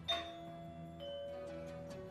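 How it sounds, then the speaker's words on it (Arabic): A doorbell chimes indoors, a bright ding and then a second ringing tone with lingering resonance, fairly faint and with no voices. "عم يرن الجرس، نحكي بعدين."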